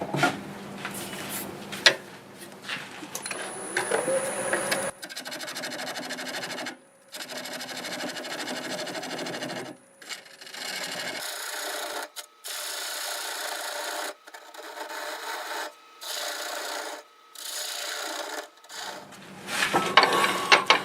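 A black walnut bowl is trimmed on a wood lathe: a steady scraping and rasping whir of the tool cutting the spinning wood comes in repeated passes, with short breaks between them.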